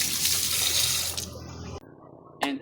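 A newly installed gooseneck faucet at a kitchen sink runs with a steady, loud gush of water that stops abruptly, and a brief splash follows after a short pause.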